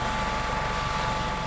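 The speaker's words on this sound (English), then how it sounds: "a compound helicopter with a coaxial rotor configuration and a pusher" An SB-1 Defiant compound helicopter with coaxial rotors and a pusher propeller gives a steady, loud, continuous drone with a low pulsing rotor throb throughout, and no voices.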